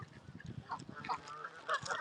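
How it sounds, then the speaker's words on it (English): Geese beside a park lake honk repeatedly at close range, harsh overlapping calls over a low outdoor rumble, with other waterfowl faintly around. "I'll just stay here then where the noisy birds are"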